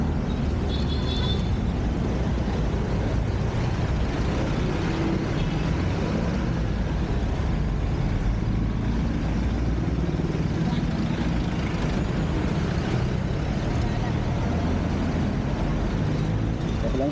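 Road traffic on a busy street alongside elevated MRT-7 rail construction with steel works, a continuous low rumble of engines and tires with a dense, even wash of noise throughout.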